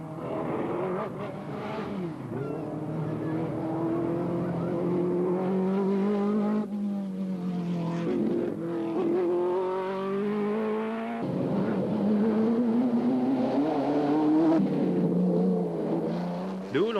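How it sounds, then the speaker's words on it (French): A Ferrari Daytona group 4 race car on a rally special stage between Languedoc and Provence, its engine revving loud and continuous as it climbs and shifts through gears, with someone talking over it. "Le Hollandais Bosch a beaucoup de mérite à emmener sa Ferrari Daytona, groupe 4, à la 3e place"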